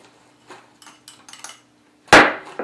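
A wire whisk stirs brown sugar into a dry gluten-free millet oat bread mix in a bowl, giving a few light scattered clinks and scrapes and then one sharp, louder knock against the bowl near the end.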